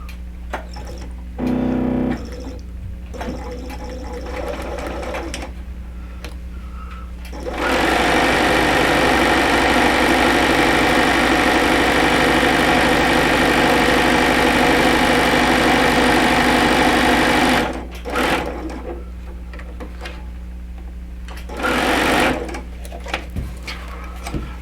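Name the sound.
sewing machine stitching quarter-inch seams with cotton thread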